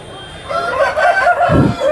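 At a native chicken market in Vizianagaram district, a country rooster crows in a drawn-out wavering call, followed by a brief low thump and ongoing market murmur around it.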